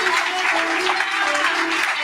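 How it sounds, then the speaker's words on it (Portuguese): A church congregation gives loud, sustained applause, a dense wash of clapping that holds steady throughout without pauses. "Que você possa dar um aplauso a Jesus bem forte"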